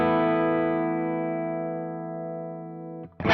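Electric guitar chord played through a Morgan AC20 amp model on an Axe-Fx with digital stereo delay, ringing out and slowly decaying for about three seconds before a brief new strum at the end.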